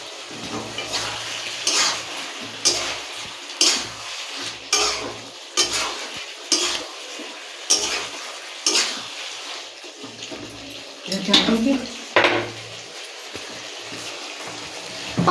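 Shrimp sizzle in a hot pan while a utensil stirs them in regular scraping strokes about once a second, loud and close, with a few heavier clanks against the pan.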